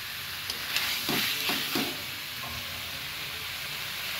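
Boiled new potatoes and soft cauliflower fry in a pan with chaat masala for a dalna, making a constant loud sizzle with a few quick stirring scrapes early on. No one speaks.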